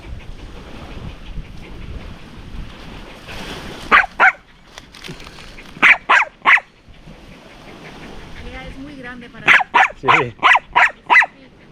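A dog barks in repeated bursts at a crab on a beach, with a pair of barks, then another pair, then a fast run of five or six, over steady surf and wind.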